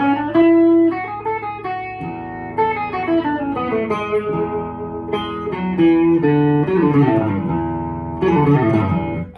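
Electric guitar playing a Mixolydian-mode line of melodic single notes and bends, with a driven, slightly effected tone, loud and close throughout, with no talking.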